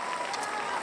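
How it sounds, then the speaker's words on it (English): A short, dense burst of clapping from a small audience, close and fairly loud, with a hint of crowd noise. "that deserves a round of applause"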